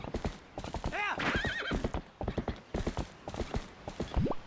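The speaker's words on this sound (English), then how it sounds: "Now we get a horse." Horse in The Legend of Zelda: Twilight Princess HD, with steady clip-clopping hooves running throughout and a loud, quavering neigh around the middle, the galloping continuing to the end.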